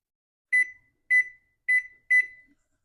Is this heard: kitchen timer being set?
yes